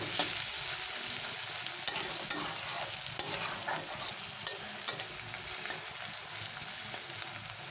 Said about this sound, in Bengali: এটাকে পেঁয়াজের সঙ্গে আরও বেশ কিছুক্ষণ ভেজে নেব